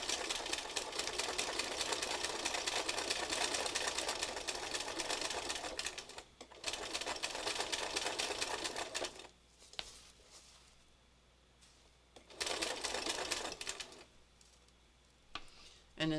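A home sewing machine stitches in long, fast, steady bursts of whirring needle clatter, stopping and restarting several times with short quiet gaps between runs.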